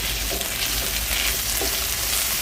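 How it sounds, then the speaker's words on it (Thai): Chili curry paste and shrimp paste stir-frying in a hot pan for a spicy Thai curry, giving a steady, close, continuous sizzle and hiss with no voices. "เรามาผัดให้หอมก่อนนะคะ"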